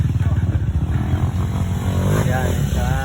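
Motorcycles loaded with sacks ride past on a road near Lake Holon, their engines loud and close with a throbbing, rising drone, while people talk over it.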